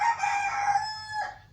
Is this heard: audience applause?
no